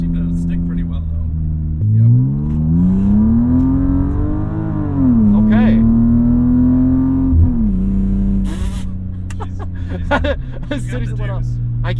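Automatic BMW E36 M3 with new rear tires accelerating hard, the engine note climbing steadily through gear changes from inside the cabin, with chatter and laughter from people in the car.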